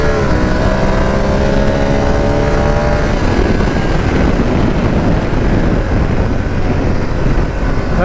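A BMW F850 GSA motorcycle accelerating hard in second gear, its engine note rising in pitch and then giving way to loud, blustery wind roar, with no talking.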